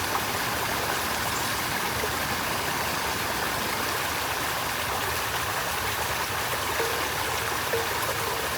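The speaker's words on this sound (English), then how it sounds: "I put the water hose out here and tested it out" Water from a garden hose running over a garage door threshold, a steady, close, even rush of flowing and splashing water that carries on unbroken with no voices.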